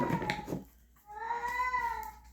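A domestic cat lets out a long, wavering yowl following a shorter cry, faint but clear in a quiet room, with no one talking.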